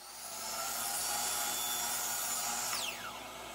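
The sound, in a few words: sawing a 45-degree miter on face frame molding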